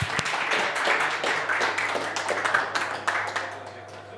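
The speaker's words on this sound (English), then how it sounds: "So warm applause for Lukáš." Audience at a frontend tech talk gives warm applause as a speaker is introduced, broad clapping that starts loud and gradually thins and fades toward the end.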